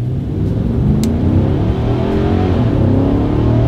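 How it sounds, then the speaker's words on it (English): A 2022 Nissan Titan PRO-4X pulls up to speed, its engine droning loud and steady with rising low harmonics as it accelerates, heard from inside the cab without talk. "let's see how quickly we can get this new 2022 Titan here up to speed"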